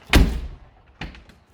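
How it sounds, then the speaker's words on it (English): Heavy door of a Mercedes G-Wagon 4x4 Squared shuts with one loud, solid thunk, and a softer click-like thump follows a second later, close up with no talking. "you still get that Mercedes shotgun feel when you close the doors and unlock the doors"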